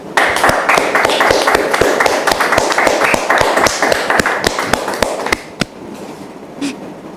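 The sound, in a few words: audience applause welcoming a guest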